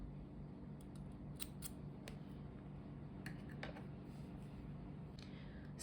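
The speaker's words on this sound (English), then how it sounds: "at this point you can just cut the tail off" Small scissors clip off the yarn tail of a crochet granny square, several light close snips and clicks over a steady low background hum.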